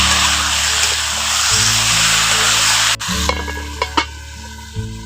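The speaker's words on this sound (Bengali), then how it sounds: "চিকেনটা দিয়ে চিকেনটাকে খুব ভালো করে কিন্তু কষে নিতে হবে।" Masala-coated chicken being stir-fried for kosha in a pan, with a loud steady sizzle and a constant hum from a nearby appliance. A few sharp scrapes and knocks of the spatula stand out toward the end, with no voices.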